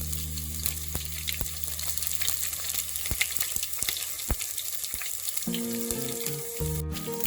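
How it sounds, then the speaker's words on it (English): Mustard seeds splutter and crackle in hot oil in a pan, a dense sizzle dotted with sharp pops and bursts throughout, close and moderately loud, with a clink of utensil near the end. "After the mustard splutters"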